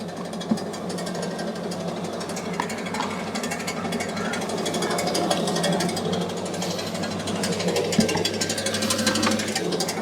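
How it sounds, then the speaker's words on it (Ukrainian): A household 220V electric animal feed mixer runs steadily at close range, giving a continuous loud mechanical rattle and hum with rapid repetitive knocking throughout, with no talking. "А мішалка наша працює."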